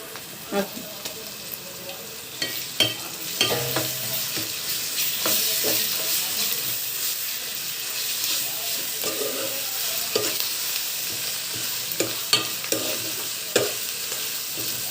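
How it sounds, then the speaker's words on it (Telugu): Goat curry with ginger garlic paste fries in a pot, giving a loud, continuous sizzle broken by sharp knocks and scrapes of a spoon stirring at close range. "బాగా వేగాలి."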